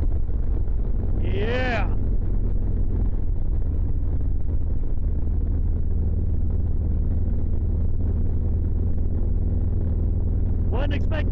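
A motorcycle ridden fast on a winter road, a steady loud engine drone with heavy wind rush across the whole stretch, briefly under a short voice near the start and again at the end.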